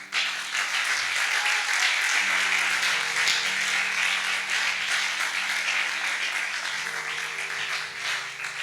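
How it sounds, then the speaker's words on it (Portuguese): Dense, continuous applause from a church congregation fills the room, a wash of many hands clapping at once over a soft sustained keyboard drone. "É dessa forma que você aplauda ao Senhor."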